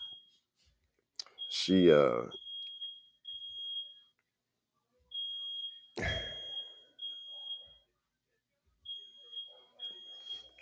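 A household fire alarm beeping in short high repeated chirps at intervals, alone at times and partly under a person talking nearby.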